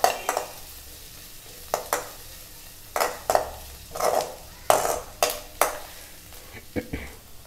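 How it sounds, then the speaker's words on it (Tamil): Onions and tomatoes fry in a pan for tomato chutney, a low sizzle broken by a series of sharp scraping strokes and clinks as a spoon stirs them in an uneven rhythm. "ஆனியன்ஸ் வந்து நல்லா வதங்கின உடனே நம்ம தக்காளியை போட்டு நல்லா ஃப்ரை பண்ணிக்கலாம்"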